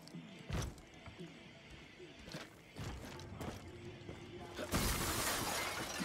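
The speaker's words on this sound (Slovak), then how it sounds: "Na našej základni som rozbil okno" A window pane shatters at a base in the video game Far Cry 5, a sudden bright crash of breaking glass late in the clip that lingers as scattered tinkling, after softer thumps and clatter of in-game movement.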